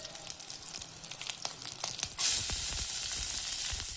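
Onions dropped into hot oil in a pan for Punjabi-style dhal tadka, first light stirring and scraping, then a sudden loud burst of sizzling that settles into a steady close hiss.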